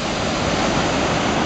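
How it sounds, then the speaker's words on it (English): Upper Yosemite Falls roars as a loud, continuous broadband rush of falling water, steady and dense throughout, heard from an overlook with no voices. "That water is just roaring."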